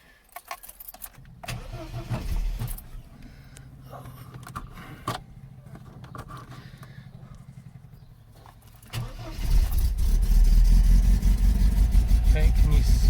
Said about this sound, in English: So when we start up this engine